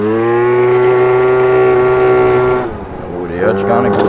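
A Yamaha Aerox 70cc scooter engine running rough, droning steadily up close, then dipping abruptly before picking back up in uneven bursts.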